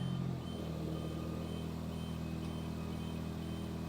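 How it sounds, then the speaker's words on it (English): A steady low engine hum from an aerial lift being moved into position, running evenly throughout after a brief change at the start, with no voices. "Dave's getting the lift over here."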